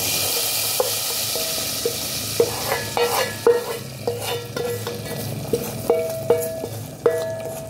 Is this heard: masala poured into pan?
yes